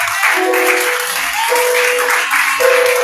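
A church congregation applauds and cheers together at a loud, steady level for a few seconds, with voices rising above the dense clapping.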